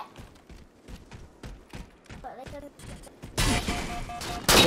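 Sniper rifle gunfire in the Halo 4 video game, a series of sharp cracks and thumps spread through the clip, the last second much louder and denser as bursts of fire pile up.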